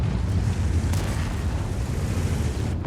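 Tank cannon fire in World of Tanks, a heavy booming roar filling the clip with a sharp crack near the one-second mark over dense low rumble, no talking.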